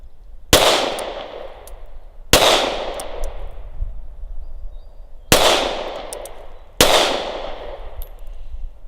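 Four sharp handgun shots fired at a target, spaced unevenly a second or more apart, each a loud close crack with a short ringing decay, with no talk between.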